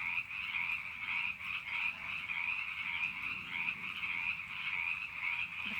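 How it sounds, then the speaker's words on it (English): A dense chorus of frogs croaks continuously at a steady, moderate level, with a soft background hiss and no voices. "The frogs have joined us today."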